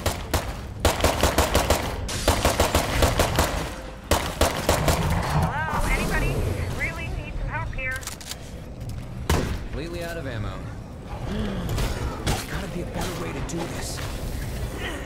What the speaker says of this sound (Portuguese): Eu vou me afastar, jogar o molotov, o tiro de 12 e metralhar de pistola.